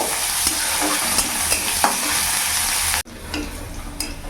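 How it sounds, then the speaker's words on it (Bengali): Crushed garlic and dried red chillies fry in refined oil in a pan, giving a steady bright sizzle with occasional spoon scrapes; the sizzle drops abruptly near the end, then resumes more quietly. "একটু ভাজা ভাজা করে নেব।"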